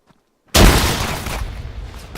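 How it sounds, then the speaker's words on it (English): Grenade going off in Fortnite: a single loud, close blast with a sudden onset, followed by a rumbling, crackling decay. "Grenade in!"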